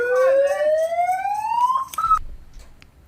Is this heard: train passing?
no